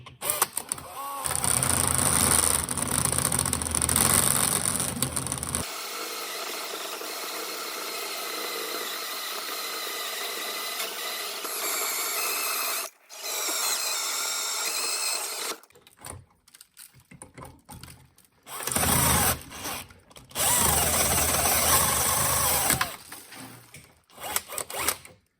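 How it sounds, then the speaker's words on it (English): An EZARC hole saw on a power drill cuts a hole through metal, the drill whirring loudly in long bursts with pauses, the grinding pitch shifting as the bit bites in. "Now we're going to get to drilling the hole."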